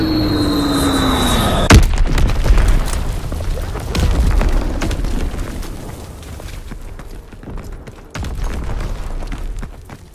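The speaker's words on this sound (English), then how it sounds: "Fritz X bomb mission underway!" A Fritz X guided bomb detonates in a World War II video game, a sudden loud boom that gives way to a long rumbling roar, with a second burst near the end and faint game voice callouts around it.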